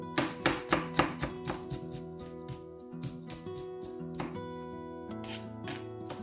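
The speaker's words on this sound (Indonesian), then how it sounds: "Ini kita cincang bareng sama bawang putih" A knife chops ginger, skin still on, together with garlic cloves on a cutting board. A rapid run of sharp chops comes first, then sparser strokes continue beneath steady background music.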